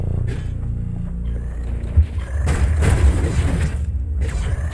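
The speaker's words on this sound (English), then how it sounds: "Bunch of turrets I need to speed through here." Turrets fire in Hyper Light Drifter's hazard-filled area: a heavy boom, then a broad, noisy blast of energy shots and another burst near the end, all over a steady low electronic drone.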